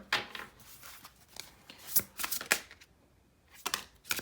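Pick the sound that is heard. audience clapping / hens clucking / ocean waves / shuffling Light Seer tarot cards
shuffling Light Seer tarot cards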